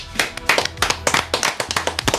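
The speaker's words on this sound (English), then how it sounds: "I'm not too happy about the clapping" A short burst of uneven hand clapping at the start of a movie review podcast, sharp close claps in an irregular rhythm without talk.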